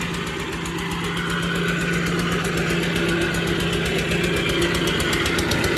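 A water pump engine runs at a pond, chugging with a steady idle knock and vibration, loud and close throughout without talk.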